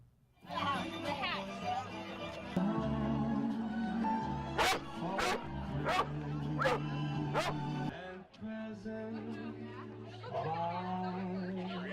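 Dogs in ugly sweaters at a charity run, a few close barks and yips rising over busy crowd chatter and people talking nearby, with children's voices in the background.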